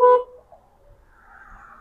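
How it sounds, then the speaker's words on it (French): A short, bright honk from the horn of a 1991 Peugeot 205, one close blast lasting a fraction of a second, then quiet with faint background hum. "Pas mal le klaxon, j'apprécie."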